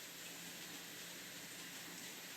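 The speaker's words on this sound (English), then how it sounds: "It's raining a lot." Heavy rain falls at night as a steady, even hiss of dense drops, unbroken and moderately quiet, with no voices over it.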